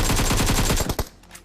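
Rapid automatic gunfire in the mobile battle royale game BGMI, a quick run of close, evenly spaced shots that stops abruptly, followed by a last single report.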